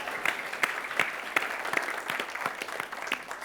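Studio audience applauding the three judges at a televised school quiz competition, a steady mid-level burst of clapping from a crowd filling the room, with sharper individual claps standing out.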